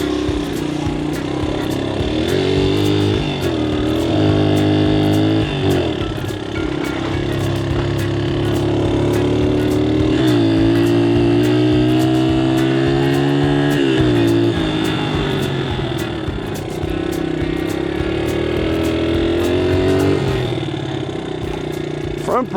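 An old cheap dirt bike with a leaky carburetor runs through a test lap, its engine buzzing loudly and continuously with repeated throttle swells and drops. A rhythmic ticking goes on throughout.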